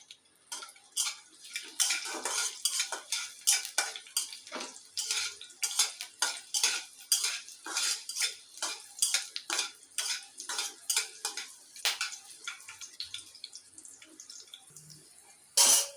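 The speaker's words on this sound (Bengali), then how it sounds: "একটু নেড়ে নেব।" Garlic and two dried chillies stirred in mustard oil in a pan, a busy run of close metallic spoon scrapes and clinks against the pan over a faint sizzle, alone without speech.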